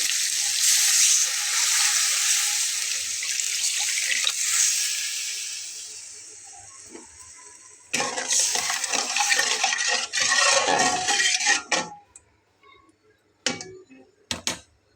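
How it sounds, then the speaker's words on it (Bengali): Water is poured from above into a pan of well-fried spice paste for a Bengali okra curry, a bright steady splashing for several seconds, then fading into bursts of sizzling and stirring clatter, close and without talk. "এখন আমি এর ভেতরে পরিমাণ মতো পানি অ্যাড করবো"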